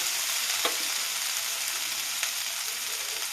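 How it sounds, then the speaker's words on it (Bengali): Pointed gourd sizzles in hot oil in a pan with a constant close crackle and two brief utensil taps against the metal. "তো পটলটা ভাজা হয়ে গেছে"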